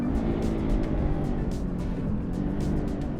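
A Porsche 914 launches from a standstill in a racing video game, its engine roaring loudly and steadily with spinning tires hissing in repeated bursts through first gear.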